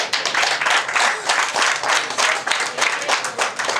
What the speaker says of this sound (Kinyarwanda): Reka tumusabe ahaguruka basuhuze, tumuhe amashyi menshi cyane